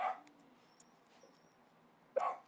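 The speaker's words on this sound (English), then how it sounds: "My dog, she loves barking at everything. It's the mailman." A small pet dog gives two short yipping barks at the mailman, one at the start and one near the end, indoors with quiet room tone between.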